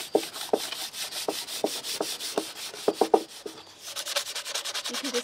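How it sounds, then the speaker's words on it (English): Sandpaper is rubbed across the front of a wooden surface being prepped for chalk paint, giving rhythmic close scratchy strokes roughly every half second, followed by a longer continuous stretch of sanding. "We're then going to be taking some sandpaper, which we're going to use across the front surface"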